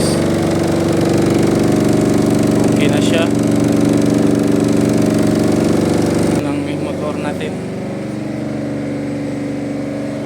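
Electric motor driven by a Siemens Sinamics V20 VFD running after a fault reset, a loud steady hum with a constant tonal drone that drops in level partway through, with a voice speaking over it.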